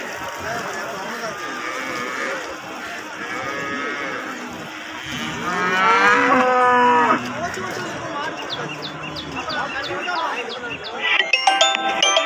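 Cattle low and moo repeatedly at the Erode Karungalpalayam cattle market, several drawn-out calls rising over a busy background of crowd chatter and people talking.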